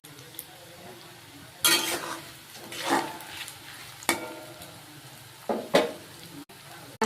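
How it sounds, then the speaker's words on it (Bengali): Pasta frying in hot oil in a wok: a soft sizzle with repeated scraping stirs and clinks of a utensil against the pan, quiet, occasional speech. "তেলটা গরম হয়ে গেছে, এবার আমি এগুলোকে ছেড়ে দিচ্ছি পাস্তাগুলোকে।"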